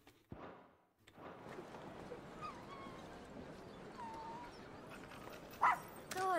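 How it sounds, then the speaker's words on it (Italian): Puppy whimpering and yipping in the Final Fantasy XVI video game, with small whines and brief barks over a busy game soundscape, including a sharp yelp near the end. "Al suo ritorno, Elwin ha regalato il cucciolo a Clive e i due sono diventati pressoché inseparabili"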